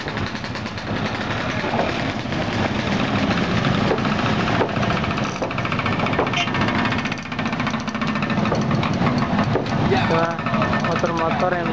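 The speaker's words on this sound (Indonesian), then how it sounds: "motor-motor yang berasal dari feri ini turun dari feri" Motorcycles ride off a river ferry at a crossing in Kuala Kapuas, their engines droning and rattling loudly and continuously near a busy market street, with people's voices mixed in under the noise.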